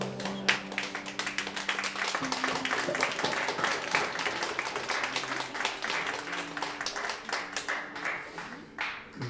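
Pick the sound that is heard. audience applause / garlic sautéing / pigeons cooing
audience applause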